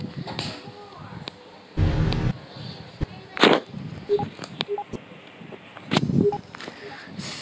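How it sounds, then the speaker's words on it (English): Airstrike explosions land in a planet-destroying space video game. Several sharp, booming bursts are scattered through the stretch amid quieter clicks and game effects. "it's just the airstrike"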